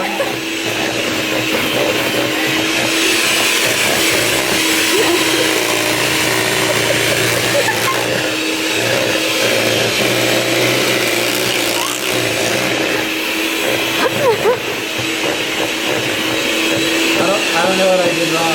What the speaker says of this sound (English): I'm using a mixer